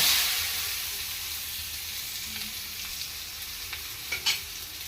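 Beetroot fries in oil in a pan, a steady close sizzle and hiss with a few soft clinks and stirring scrapes toward the end, no voices.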